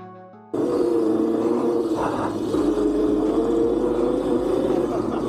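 An electric snow bike built from a 72V Razor MX650 whines steadily as its rear tire free-spins, a loud, close, sustained motor tone holding nearly constant pitch after an abrupt start.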